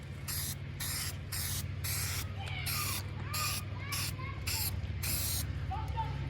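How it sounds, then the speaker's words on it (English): A rust-converter one-step coating is sprayed from a can into the wheel well of a Mustang. Close, repeated short hissing bursts come in a steady rhythm, with squeaky creaks between them and a steady low hum underneath. "Get this sprayed just a little."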